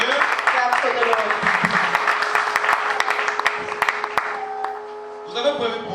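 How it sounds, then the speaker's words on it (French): A church congregation claps for the Lord, dense applause beneath a speaking voice and a sustained held tone, tapering off toward the end. "Can we clap for the Lord?"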